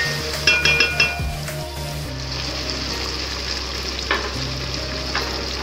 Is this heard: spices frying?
yes